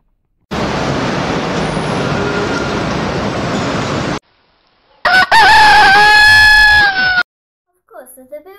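A rooster crows loudly and close in a village, one long cock-a-doodle-doo that follows a stretch of steady broadband noise and a short gap.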